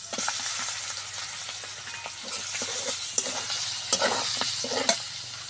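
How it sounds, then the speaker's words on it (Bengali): Chicken sizzles in hot soybean oil in a kadai, a steady frying hiss broken by scattered pops and the clinks and scrapes of stirring, with no talk. "এইবার চিকেনটা ভেজে নেব।"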